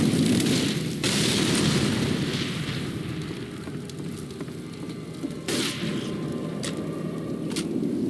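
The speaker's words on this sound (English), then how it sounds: "Molotov!" A Molotov cocktail explodes in Left 4 Dead 2, with a burst followed by a loud, sustained roar of burning fire and scattered sharp pops and crackles.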